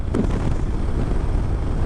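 Strong wind gusting across an open salt flat on a Rajasthan ride, a steady loud rumbling buffet on the microphone throughout, with no voices.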